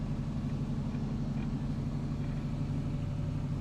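An LS-swapped Camaro runs down the road with a steady, low engine rumble and drone from inside the cabin, continuous and moderately loud with no talk.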